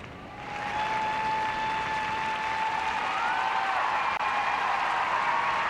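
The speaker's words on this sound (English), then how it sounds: "the crowd continues to salute her short program" An arena crowd applauds a figure skater's short program at the 2006 World Figure Skating Championships in the Pengrowth Saddledome, a sustained, even wash of clapping heard from a distance, with faint tonal whistles over it.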